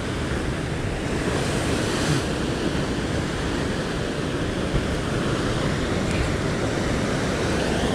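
Ocean swell rolling onto a rocky shore, a loud, continuous roar of surf and wind that holds steady throughout with no voices.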